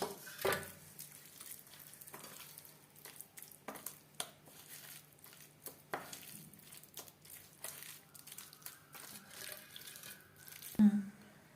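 Bowl-rinsing water is poured into a pan of spiced fish pakora batter, trickling and splashing in short irregular bursts with a sharp clatter near the end.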